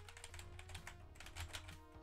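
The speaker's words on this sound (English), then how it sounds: "Oh, I also got a cool keyboard. It's a clacky keyboard." Typing on a clacky computer keyboard fills the stretch with a quick, steady patter of sharp key clicks, close and moderately loud, alone with no talk over it.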